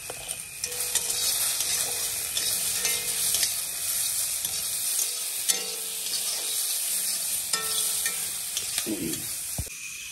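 Fish frying in a pan makes a loud, constant hiss of bubbling oil with intermittent scraping and stirring knocks, close up and with no one talking.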